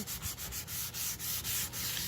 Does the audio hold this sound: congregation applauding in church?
no